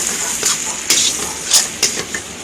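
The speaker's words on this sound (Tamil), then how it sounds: "சிக்கன் மசாலா பொடி மல்லிப்பொடி எல்லாத்தையும் போட்டு நல்லா வதக்கிடுங்க இந்த எண்ணெய் இருக்கிறதுலையே வதக்கிடணும்" Chicken masala and coriander powder sautéing in hot oil for a country chicken curry: a steady sizzle broken by several scraping clinks of stirring at irregular intervals, with no talking.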